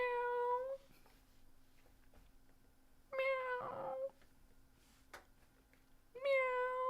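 A cat meows three times as a livestream super chat alert, each call drawn out and clear with short quiet gaps between, and no talking.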